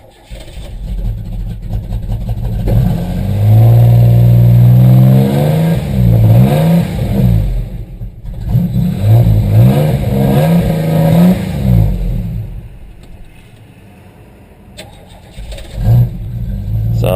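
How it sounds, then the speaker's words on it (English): A 1990 Isuzu Trooper engine cranks and starts, then revs unevenly with light valve clatter before settling toward a rough idle, loud and close throughout, with a brief dip near the end before it picks up again. "So you got a little bit of valve clickety-clackety before it settles down."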